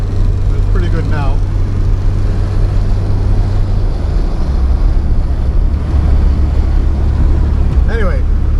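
A 1979 Porsche 924 cruising on the road, heard from inside as a loud steady low engine and road drone mixed with wind rush, with brief speech near the start and end.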